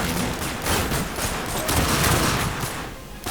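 Guns fire in The Darkness II, rapid continuous bursts of automatic fire that are close and loud and pulse steadily throughout, with no talk over them.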